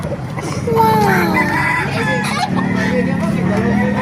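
At a chicken market in Baliuag, Bulacan, a rooster crows once near the start over steady crowd noise and someone speaking throughout.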